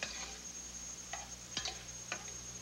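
Onion, carrots and diced ham being stirred in a pot, with a soft steady sizzle and a few sharp spoon scrapes and clinks against the pot at intervals.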